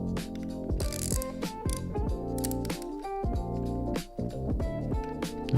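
Small screws being unscrewed with a screwdriver to take apart a Tarmac Works or MINI GT diecast toy car, giving steady close ratcheting clicks with sharp mechanical ticks and brief pauses throughout.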